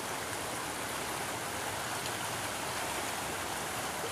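A river flowing beside a university campus, a steady, dense rush of water that stays even and unbroken throughout, close and fairly loud with no voices.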